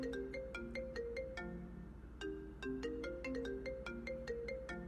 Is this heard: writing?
no